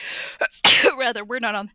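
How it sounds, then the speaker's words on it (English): A single sharp sneeze bursts out between short stretches of speech, close and loud, followed by more talking. "Some pretty heavy duty sneezing"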